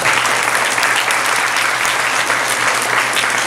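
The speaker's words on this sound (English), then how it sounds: "Let's give them a round of applause again" An audience at a school Veterans Day assembly claps in sustained, dense applause, loud and even throughout.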